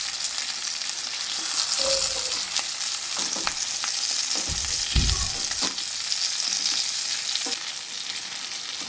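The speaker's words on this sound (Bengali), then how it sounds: "আবারও আমি এপিঠ ওপিঠ খুব ভালো করে নেড়ে দেব" Eggplant pieces frying for a masala curry, a dense continuous sizzle with occasional soft scrapes and knocks as they are stirred and turned, close and steady with no voices.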